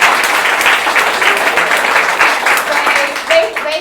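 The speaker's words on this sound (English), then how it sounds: "I think we can give them a warm round of applause." Warm round of applause from an audience at a museum exhibit opening for a Civil War shipwreck display, steady broadband clapping that fills the whole stretch, fairly loud, with a few faint voices mixed in near the end.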